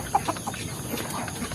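Free-range village chickens fed coarse bran cluck in a few short, close bursts over a low outdoor background, with no talking.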